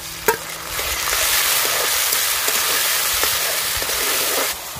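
Chopped onion tips into a hot frying pan with a sharp clatter, then settles into a steady loud sizzle with stirring scrapes, in a rural Tripura kitchen cooking a local fish curry with ridge gourd.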